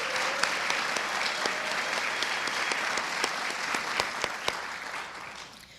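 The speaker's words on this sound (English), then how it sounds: "one more big round of applause for all of our volunteers" Sustained applause from an audience at an evening volunteer awards event, steady clapping filling the whole stretch with a few sharper individual claps standing out before it begins to fade.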